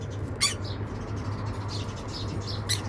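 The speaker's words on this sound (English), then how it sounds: "you're going to be chirping all day long" A small bird chirps in short, high bursts, a few sharp calls and some softer ones scattered over a low steady hum.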